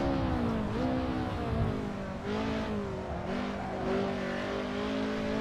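Race car engine in the Assetto Corsa racing game, a steady close droning roar with rising and falling pitch as it revs through gears, continuous and loud without speech.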